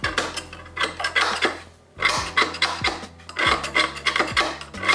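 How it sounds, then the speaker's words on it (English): Metal scraping as carbon deposits are chiseled off a valve from a BMW S85 V10 cylinder head, repeated rasping strokes in close, loud bursts with a short pause midway, no talking. "you just kind of chisel this off."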